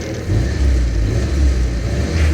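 A 1946 Willys Jeep engine nearby rumbles low and heavy, its revs rising slightly and holding steady.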